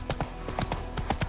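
Horse hooves trotting in The Witcher 3 video game: a quick, even clip-clop of close hoofbeats, about two to three strikes per half second, over a soft ambient game backdrop.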